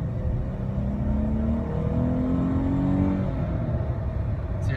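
A 2017 car with an automatic transmission accelerating, its engine note rising steadily in a continuous hum with smooth pitch steps as the gearbox shifts, close and without talk.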